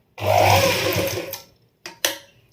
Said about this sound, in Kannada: ಅಷ್ಟು ದಪ್ಪ ಇದೆ, ಆದರೂ ಸ್ಟಿಚಸ್ ಬೀಳುತ್ತೆ ನೋಡಿ